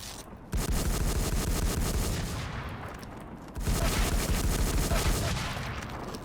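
Gunfire in the online shooter WarZ: two long, loud sustained bursts of rapid automatic fire, close and booming, separated by a short break.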